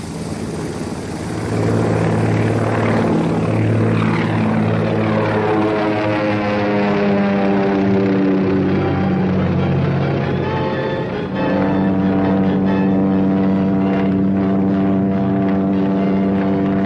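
A loud propeller plane engine drones continuously, its pitch slowly rising and falling as if passing close by, with no talking.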